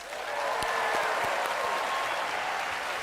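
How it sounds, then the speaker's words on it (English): Awards-ceremony audience applauding the nominees at the Canadian Screen Awards, a dense, steady roar of many hands clapping in a large hall, loud and sustained with no talk over it. "how about a round of applause for all of tonight's brilliant nominees?"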